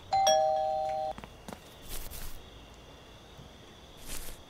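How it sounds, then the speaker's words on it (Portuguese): A doorbell rings at a house in the Thief Simulator game, with a single clear two-tone chime at the start, then quiet background with faint shuffling sounds. "vai tocar a campainha"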